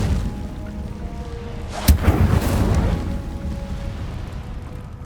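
An Incendio fire spell cast in Hogwarts Legacy: a sharp thumping burst with a fiery whoosh rising out of steady low ambient rumble, then fading back.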